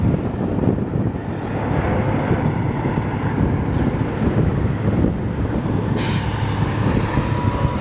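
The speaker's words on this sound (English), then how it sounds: "Oh yeah, it is definitely windy" Strong gusty wind buffeting the microphone outdoors ahead of a storm, a continuous heavy roar with a hiss that picks up near the end.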